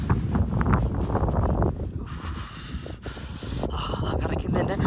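Cold wind gusts at Deboche on the Everest Base Camp trek in the Himalayas, buffeting the microphone with loud, uneven rumbling and hissing bursts that ease briefly midway.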